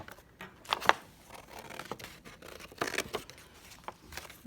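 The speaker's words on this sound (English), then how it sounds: "get yourself a pair of scissors, hold your paper, and just cut along your pencil line" Scissors snipping through paper along a pencil line, a few separate crisp cuts with short pauses between them, close and fairly quiet.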